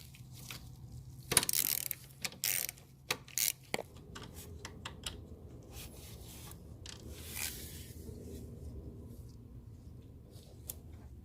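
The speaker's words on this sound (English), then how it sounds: "break this hose loose by removing this 12 millimeter fastener" A ratchet on extensions works a 12 mm bolt from an A/C line on an Infiniti G20, sharp clustered clicks and metallic scrapes early, then softer rubbing and handling noise, close and quiet.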